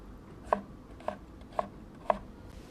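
A knife chopping a konjac corm into small pieces on a cutting board, four firm, evenly spaced thuds at a steady unhurried pace, close and clear.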